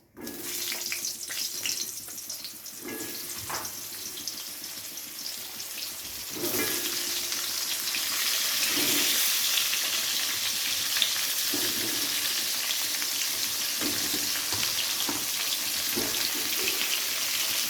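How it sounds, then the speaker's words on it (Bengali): Pointed gourd pieces fry in hot oil, a steady close sizzle that grows louder and denser after a few seconds as more gourd is added, with occasional utensil knocks and no talk. "এবারে এই একই তেলের মধ্যে পটলগুলোকেও ভেজে নেব।"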